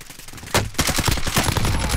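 Rapid video game gunfire, a dense close burst of automatic shots rattling in quick rhythm after a short lead-in, loud and continuous for about a second and a half.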